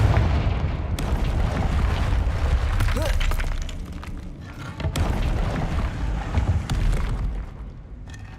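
Several heavy blasts from the Confringo explosive spell in Hogwarts Legacy, loud booms with crackling debris, two sharp impacts standing out among ongoing rumbling chaos.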